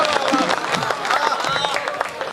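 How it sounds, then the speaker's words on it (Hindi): Audience clapping at a Hindi comic poetry gathering, a dense, loud wash of many hands filling the short stretch, with crowd murmur mixed in. "एक बार इनके लिए जोरदार तालियां बजाओ"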